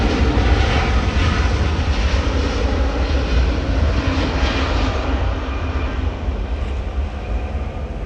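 A Boeing 777 airliner approaches Sydney Airport on runway 16 right, its engines a loud, steady, broadband roar that stays constant with a slight fade toward the end.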